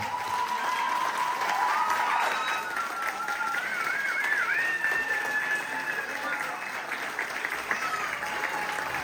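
Crowd clapping steadily for children receiving new judo belts at a judo-jujitsu school's end-of-year show, sustained applause across the whole stretch, with faint voices and a high whistling tone mixed in.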